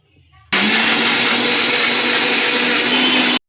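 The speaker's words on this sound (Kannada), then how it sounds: "ಇನ್ನು ಇದನ್ನು ಗ್ರೈಂಡ್ ಮಾಡ್ಕೊತೀನಿ ಒಂದ್ಸರಿ" A mixer grinder starts abruptly and whirs loudly and steadily as it blends banana, almonds, cashews and sugar. The motor runs at full, close, constant power for about three seconds and then cuts off sharply.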